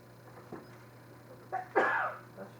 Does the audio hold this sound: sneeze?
yes